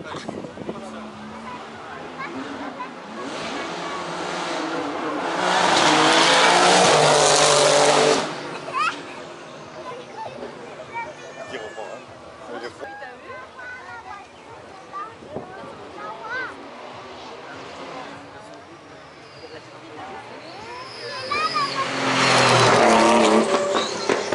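A 2019 Renault Formula 1 car at a road show in Nice, its engine screaming loudly as it passes in two intense bursts with a quieter stretch of crowd noise and nearby talk in between.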